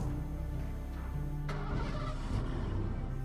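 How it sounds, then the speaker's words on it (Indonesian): A car engine starts up and runs with a low, steady rumble at moderate distance, with a brief clatter partway through and no talk over it. "Kok kayak suara mobil bokap?"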